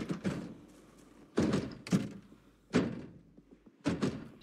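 Heavy banging on doors in the zombie survival game Project Zomboid: four loud, separate thuds spaced about a second apart, each with a booming low body and a short decay, with no talk over them.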